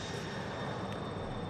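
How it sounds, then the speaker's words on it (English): A Delta airliner passes overhead as a steady, broad engine roar, continuous and fairly distant, with no talking in between. "Okay, maybe that's our plane."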